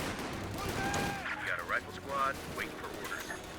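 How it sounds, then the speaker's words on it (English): Rifle fire from soldiers in the real-time strategy game Company of Heroes 2, faint scattered shots buried under steady battle ambience and someone talking throughout. "You can see my men are actually shooting."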